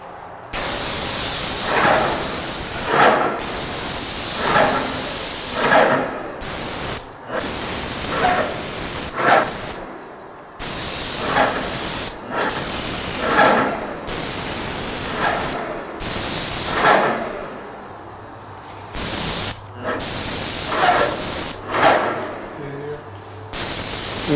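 A Graco paint sprayer sprays during accent wall finish carpentry work. Loud, close bursts of hissing spray repeat in a steady rhythm, each lasting a couple of seconds with brief pauses between them.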